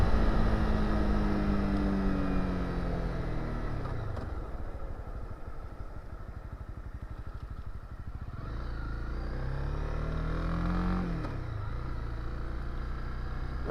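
A Honda CB300R motorcycle engine revs up and changes pitch as the bike pulls away, roaring up, easing down, then climbing again. The loud, close engine note runs throughout with no talk.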